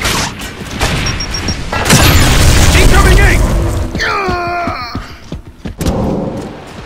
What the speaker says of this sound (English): Throwing frag!